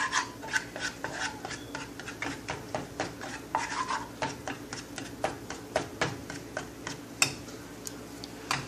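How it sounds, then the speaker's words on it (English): Cold porcelain air-dry clay mixture being stirred, a steady run of soft scraping and rubbing strokes with small ticking clicks, close and fairly quiet, no voices. "this does require a lot of stirring"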